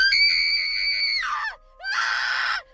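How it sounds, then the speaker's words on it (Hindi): A child shrieks loudly and close by in two long, high-pitched bursts, the first sustained and wavering before breaking off, then a brief gap and a second harsher, noisier scream, with no talking. "अचानक से एक बच्चा जोर जोर से चीखने लगा"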